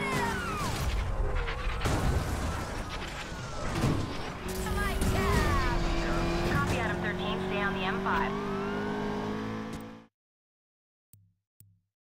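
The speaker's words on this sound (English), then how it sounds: "Control entering pursuit with dark BMW M5 ramming up." Car engines roar through a police pursuit in Need for Speed Payback, with a dark BMW M5 ramming alongside; steady loud engine drone with rising and falling pitch sweeps runs for about ten seconds, then cuts to near silence.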